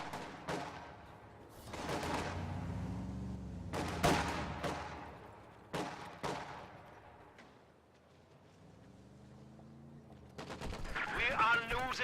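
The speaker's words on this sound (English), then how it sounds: "3 Grenadier MG42 opening for Momo." An MG42 machine gun in a World War II strategy video game fires repeated short, sharp bursts with pauses between them, loud and near, with faint background battle noise.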